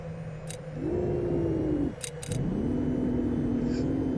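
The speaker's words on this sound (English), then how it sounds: "please put our gear and flaps down" Landing gear and flaps lowering on an aircraft in the flight game VTOL VR, a steady mechanical whine with sliding pitch over a constant engine drone, broken by brief clicks and a short pause partway through.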